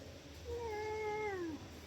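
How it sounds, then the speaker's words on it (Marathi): A single drawn-out cat meow, rising then falling, fairly faint and close in a quiet room with no talk. "तू मांजर आहे का?"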